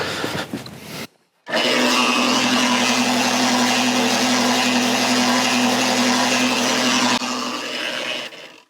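A feed mixer spins up with barley, alfalfa and roasted soybeans for homemade sheep and goat feed. After a brief start and pause it holds a loud, steady motor whir and a rushing churn of grain for several seconds before easing off.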